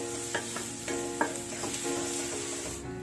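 Onions roasting in a pan for chutney, a steady sizzle broken by several scraping stirs of a spatula, close and moderately loud with no talking.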